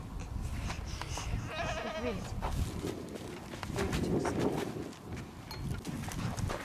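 Sheep bleat in a harmonic, wavering call near the start, amid farmyard clatter and shuffling, with people speaking intermittently around it.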